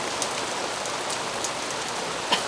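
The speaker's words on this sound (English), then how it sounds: "The rain." Steady rain patters on surfaces throughout on a cloudy day at Bora Bora in French Polynesia's Society Islands, a dense, even hiss of drops with a brief louder splash near the end and no voices.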